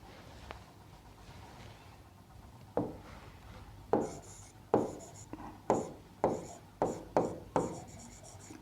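Chalk taps and scrapes across a board in a run of sharp, evenly spaced strokes, close and alone after a quiet start.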